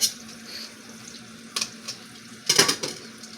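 Raw rabbit meat is washed under a running kitchen tap, giving a steady near hiss of water broken by louder splashing bursts as the meat is moved under the stream, with no talking.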